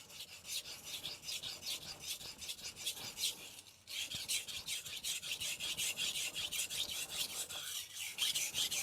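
A knife is sharpened on a Morihei Hishiboshi Hi 1000 grit whetstone, heard close up as a smooth, continuous rasp of rapid back-and-forth strokes, with one brief pause midway and no speech.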